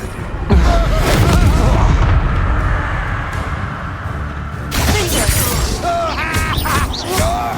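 A fiery Incendio spell cast in Hogwarts Legacy combat: a loud, roaring blast of flame that rumbles for several seconds, dips, then surges again with a second burst.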